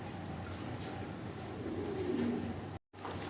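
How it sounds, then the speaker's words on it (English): Budapest pigeons coo softly in a loft, low repeated calls under a steady hiss of room noise, with a brief drop to silence near the end. "Budapest pigeon"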